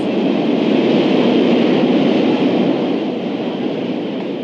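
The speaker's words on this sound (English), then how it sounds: "do you feel the breeze from the subway?" A subway train rushes along under a street grate, a loud, steady roar and rumble that stays strong throughout and eases slightly toward the end.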